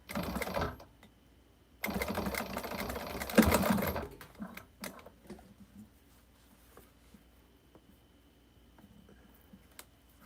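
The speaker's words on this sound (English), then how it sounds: "I'm just going to keep sewing." A sewing machine stitching a quilt runs in two short whirring bursts, then falls to quiet with scattered faint clicks and handling noises.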